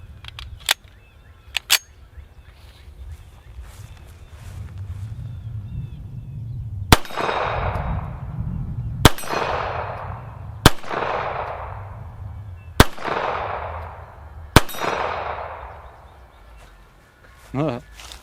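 Five loud rifle shots from a military surplus rifle firing 147 grain ammo at an outdoor range, spaced about two seconds apart, each with a long echoing tail, after a few lighter metallic clicks and handling noises.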